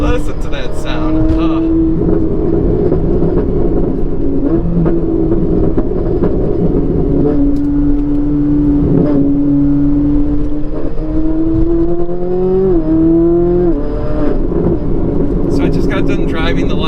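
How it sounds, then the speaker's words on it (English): Ferrari 458 V8 fitted with an aftermarket exhaust, heard from inside while driving: a loud, steady engine note that climbs through the revs, eases off, then swells again in several rising sweeps. "458s with exhaust are so good."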